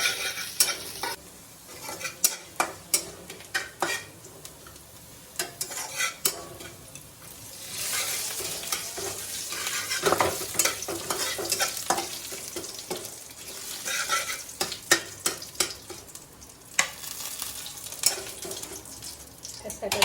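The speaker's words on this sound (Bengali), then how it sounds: "আদাটা একটু ভাজা ভাজা করে" Ginger frying in oil in a wok for shukto, with repeated sharp stirring and scraping strokes over a steady background sizzle, close and fairly loud; brief muffled talk is possible.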